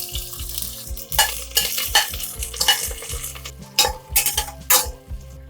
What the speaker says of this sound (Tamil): இப்போ வெங்காயத்தை சேர்த்துடலாம்.